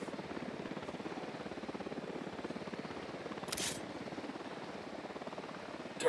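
A helicopter in Ghost Recon Wildlands thrums steadily with fast rotor chopping, close and constant for six seconds, with a brief burst of noise midway and no talk.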